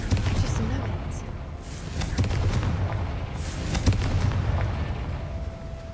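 A Confringo blasting spell goes off in Hogwarts Legacy, a rumbling burst with a dense low boom and crackling debris, rolling on for several seconds beneath game ambience.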